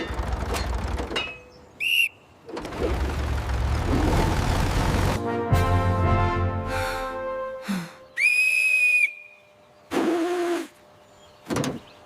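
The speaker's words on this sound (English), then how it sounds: "On my whistle." A whistle blown as a start signal at a farm where a broken tractor with no brakes is about to be pushed through mud, sharp shrill bursts among mechanical rattling and clanking, repeated several times.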